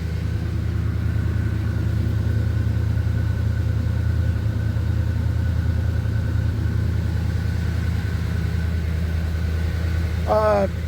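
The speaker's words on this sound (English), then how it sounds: "I'm gonna let this warm up for just a minute." A 1978 GMC truck idles as it warms up, a steady loud low rumble holding evenly throughout, close by, with a brief voice near the end.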